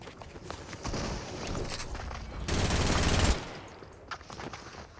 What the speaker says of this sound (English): I'm missing all of these shots, so bad